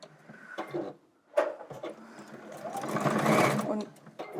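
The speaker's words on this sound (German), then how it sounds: "Und nun nähe ich entlang der nächsten Kante, bis ich wieder zur nächsten Ecke komme." A sewing machine stitches binding along the edge of a hexagon or octagon quilt, running steadily close by, with short pauses and restarts and a fuller stretch of stitching toward the end.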